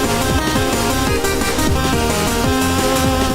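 The 016 melody from a song plays in a loud, full electronic mix with repeating pitched bass sweeps and a steady beat throughout, no voices.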